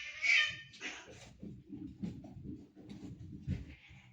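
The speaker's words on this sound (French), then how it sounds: "C'est mes chats qui se battent." House cats fighting indoors, with a sharp yowl at the start followed by scuffling, thumps and low growling scrapes, close and fairly quiet.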